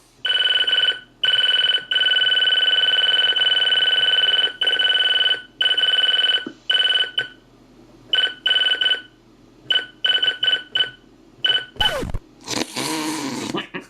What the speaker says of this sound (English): there's another type of button beep